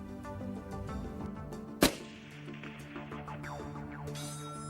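A rifle fires a single sharp, loud crack at a one-mile target outdoors, followed by a brief trailing echo over a quiet steady background.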